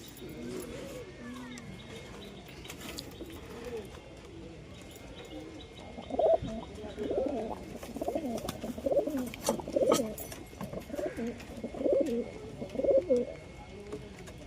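Andhra pigeons cooing in repeated low rolling calls, several bursts close by, with some voices in the background.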